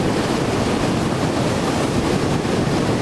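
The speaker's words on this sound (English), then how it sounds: "It's a gale force wind." Gale-force wind roaring over a beach with surf crashing, a loud, steady broadband wash of wind buffeting and waves that never lets up, no voices.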